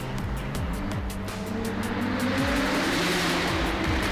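A turbocharged Porsche race car with boost raised to 2 bar, its engine revving hard and rising in pitch through gear changes, loud and close, with sharp exhaust pops and crackles, no talking.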